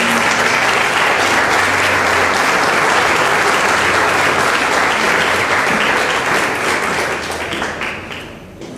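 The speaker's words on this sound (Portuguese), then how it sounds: "Uma salva de palmas ao senhor Noênio." An audience applauds at a ceremony for the unveiling of a plaque and the reopening of a railway station warehouse. The clapping is dense and sustained, then thins and fades toward the end.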